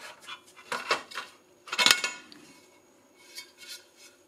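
Metal cooking plates are released and lifted out of a Tefal 180° rotating waffle maker, giving a few sharp metallic clinks and clatters, close and moderately quiet, with a louder cluster of rattles midway and fainter taps afterward.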